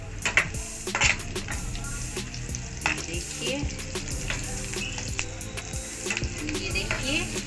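Chopped onions fry in a hot pan for homemade masala Maggi noodles, giving a continuous close sizzle broken by repeated scraping stirs, with no talking.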